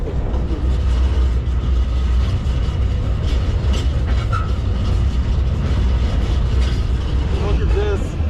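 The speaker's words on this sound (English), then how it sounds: "We made it onto the next train together." A freight train carrying phosphate rolls along with a loud, constant, close rumble and rattle of wagons that fills the whole stretch, with faint metallic squeals and some voices in the background.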